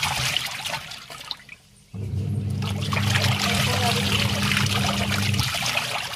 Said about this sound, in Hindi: तो इसमें हम कपड़ा डालते हैं, पानी डालते हैं, उसके बाद चेक करते हैं।